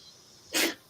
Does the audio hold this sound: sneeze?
yes